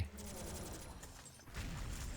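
Rapid bursts of gunfire rattle alongside booming blasts and busy effects from the shooting game XSHOT, dense and continuous throughout.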